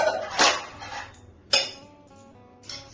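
Spoon clinks against a bowl as sugar is stirred into a mango dahi mixture, three sharp metallic strikes spaced about a second apart, close and clear with quiet pauses between.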